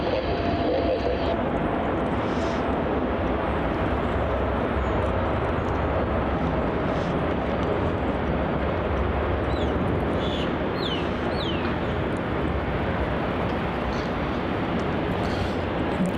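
A B747 cargo jet landing on runway 34 at Melbourne Airport, a steady loud roar of engines and rushing air that holds throughout with wind buffeting, with faint chirps of birds in the background.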